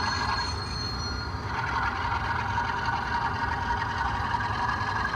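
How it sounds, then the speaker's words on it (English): OO scale model British Rail Class 47 diesel locomotive running on a layout, a steady close mechanical hum and whir with a faint high whine, no talking. "According to Robin, this locomotive is a British Rail Class 47"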